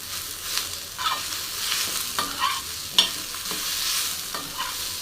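Coriander being sautéed with chopped onions in a pan for a dry chicken sukka: a steady close sizzle with scattered scraping stirs and small pops, no voices.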